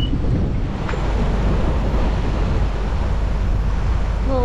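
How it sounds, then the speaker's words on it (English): Strong wind of around 16 to 28 mph roars across the microphone aboard a sailboat motoring through a cut in rough water, with wave wash beneath it, loud and continuous throughout. "We're at 16-mile-an-hour winds right now, but we were seeing 28."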